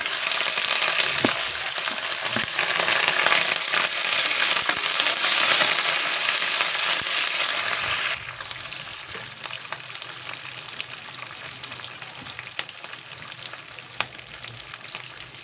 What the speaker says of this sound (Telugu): పోపులు వేసాము, బాగా వేగాలి.